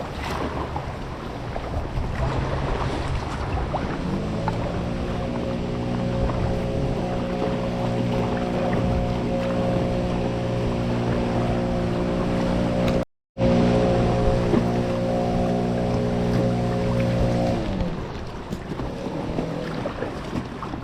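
A paddler moves through class 1 whitewater on the river Vilnia in a Vilnius park, with broadband rushing water and wind buffeting the microphone. A steady low droning tone runs through the middle, briefly broken by a dropout, and no one speaks.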